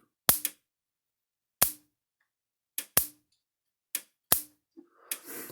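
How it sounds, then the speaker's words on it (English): An old Parmak Super Energizer electric fence charger sparks from its hot terminal to ground. It gives sharp, faint snaps at roughly one-second intervals, six or so in a row, close up in quiet surroundings. "put a little touch the hot side and get real close to the ground side. Should shoot a nice little spark out of it"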